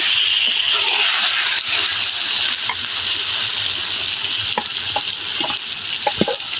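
Marinated meat stir-fried in a pan with a constant sizzle, a spoon scraping and clinking against the metal at irregular intervals, close and loud.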